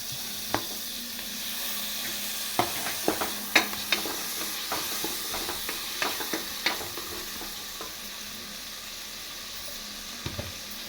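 Sliced onions and two lengthwise-cut country tomatoes fry in oil for egg biryani, giving a continuous close sizzle broken by frequent clinking stirs and scrapes of a spoon against the pan.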